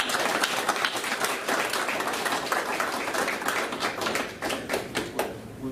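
Applause at a South Australian snooker club state final, a brisk, close crowd of hands clapping steadily with individual sharp claps standing out, fading slightly at the end.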